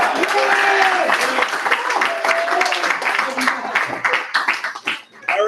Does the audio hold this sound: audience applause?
yes